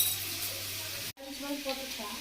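Tomatoes sauté in a hot pan for biryani with a soft sizzle, briefly cut off, then resuming with stirring and light scraping of utensils against the pan; quiet and close.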